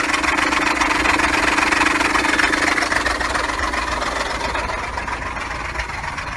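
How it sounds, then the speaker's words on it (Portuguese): A car engine idles with a steady, close drone and an irregular knocking rattle in it, as if something inside is striking, holding level throughout with no talk. "Ele tá castanhando, parece que tem alguma coisa batendo"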